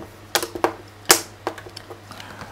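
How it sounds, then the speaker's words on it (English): A manual edge trimmer, a large scissors-like garden tool, snips shrubs in a garden with several sharp, close clicks at irregular intervals, one louder snap in the middle, and no talk. "The manual edge trimmer is used to cut, to trim, or to prune shrubs in our garden."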